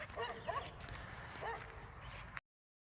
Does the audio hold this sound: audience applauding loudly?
no